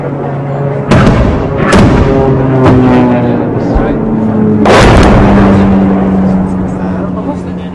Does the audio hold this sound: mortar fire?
yes